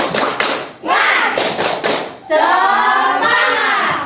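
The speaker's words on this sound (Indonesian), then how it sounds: "kita akan tepuk semangat" A classroom of children performs a rhythmic spirit clap, sharp patterned hand claps alternating with loud chanted voices, close and energetic.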